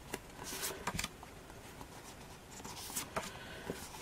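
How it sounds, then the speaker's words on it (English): Someone flips quickly through a pack of rose-themed Wild Rose craft papers, making soft irregular riffles and light slaps. The sound is quiet and close, with bursts clustered at the start and near the end. "I just want to show you a quick flip through of some of those papers"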